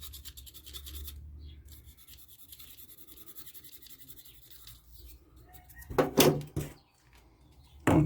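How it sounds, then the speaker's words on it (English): A blade scrapes the cambium layer off a tree branch for air layering, rasping strokes repeating close by, with a few sharper louder scrapes near the end. "Scrape the cambium layer."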